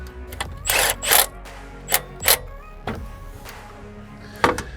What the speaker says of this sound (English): Then we can tighten this bolt down.